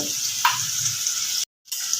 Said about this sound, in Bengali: পেঁয়াজটাকে একটু আমি গ্যাসটা সিম করে ভাজা ভাজা করে নেব